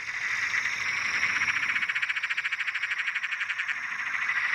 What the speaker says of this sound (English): I could hear a Perrin's tree frog singing in a tree behind me